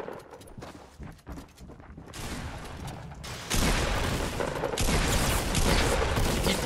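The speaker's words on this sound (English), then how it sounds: "People shooting from across." Players in a Fortnite match fire from across the map in rapid, crackling bursts. The fire starts sparse and distant, then builds into a louder, denser volley in the second half, with no talk over it.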